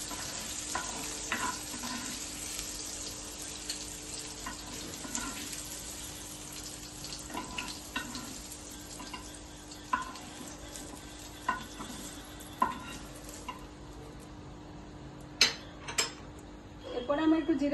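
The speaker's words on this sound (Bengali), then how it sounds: "লাল লাল করে ভাজা হয়ে গেছে" Chopped garlic and ginger fry in oil in a pan, a steady close sizzle with stirring clicks and scrapes of the spatula throughout.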